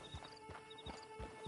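Video game horse hooves clip-clop in a steady walking rhythm, five or six soft, muffled strikes over a quiet background hum.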